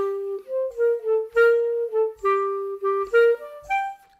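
Klezmer tune Bublitchki played as a simple melody with accented notes on a sustained, reedy melodic instrument. About a dozen notes swell and fade in a steady rhythm, close and alone, with no talking.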